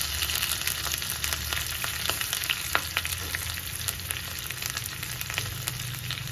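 Ginger cut into long strips, green chilies and curry leaves sizzle and crackle steadily in hot tempering oil for chole, a dense continuous fry with scattered sharp pops, close and alone.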